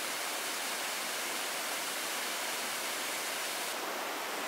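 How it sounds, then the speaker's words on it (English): Comer's Creek Falls on the Appalachian Trail running high after several inches of overnight rain, a steady, dense rush of falling water close by with no other sounds. "This is Comer's Creek Falls behind me."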